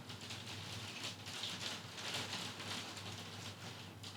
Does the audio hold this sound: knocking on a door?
no